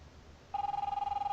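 Telephone ringing in the video game The Wolf Among Us, a sudden electronic trilling ring that starts after a quiet moment and pulses rapidly and steadily, clear and close.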